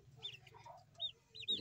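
Backyard chickens and a rooster clucking close by, a few short bursts of squawks and clucks spread across under two seconds, fairly faint.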